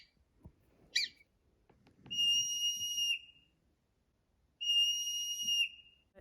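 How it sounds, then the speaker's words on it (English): Two long, loud, shrill whistles from a groundhog ring out a couple of seconds apart as an alarm call, with a short chirp and faint rustling in the quiet gaps. "whistle pig because of their sharp, loud alarm call that they can make"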